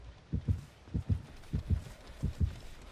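In Dead by Daylight, a survivor's heartbeat thumps as the killer closes in, four deep lub-dub pairs at a steady, moderately fast pace, close and prominent with no talking.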